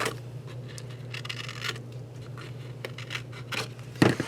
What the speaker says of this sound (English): take my scissors and just kind of go along those edges and remove the excess part